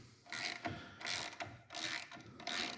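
A hand ratchet tightening the propeller and spinner on a V-Twin aircraft engine: quiet, close clicking pawl strokes in four even, rhythmic bursts with short pauses between them, no talking.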